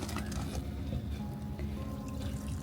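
Leftover water trickles steadily out of the fresh-water hose of an RV trailer being packed up at a campsite, a faint continuous flow with low background rumble.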